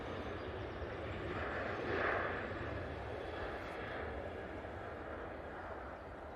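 A Ryanair jet at Manchester Airport roars through its takeoff roll, a broad, continuous engine rumble at a distance that swells slightly and then holds steady.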